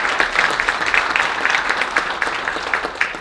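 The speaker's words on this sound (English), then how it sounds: "Y'all can applaud." Brief burst of audience clapping at a ring ceremony, a crowd's quick, close, uneven claps lasting a few seconds.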